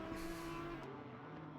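An Audi R8 GT3 race car engine drones in a sim race at Indianapolis, a steady tonal hum that stays fairly faint and even before thinning out.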